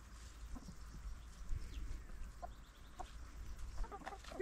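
Chickens cluck softly in a garden, with scattered short calls over a low steady outdoor background.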